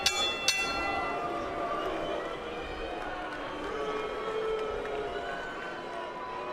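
A boxing round bell at a professional fight clangs twice in quick succession near the start, its metallic ring lingering over a murmuring arena crowd and ongoing commentary.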